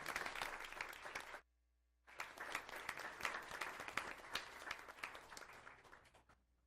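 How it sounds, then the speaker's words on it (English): Audience at a regular meeting breaks into sustained applause, loud and steady, with a brief silent gap partway before the clapping resumes. "Please join me in a round of applause for a wonderful job."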